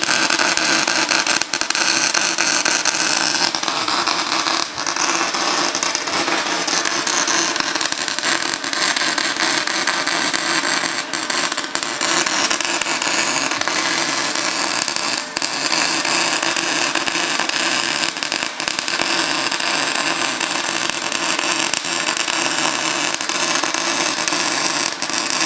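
An arc welder runs continuously while building up weld around a pitted bearing journal on a cane mill, a loud steady crackling hiss with small pops throughout and no speech.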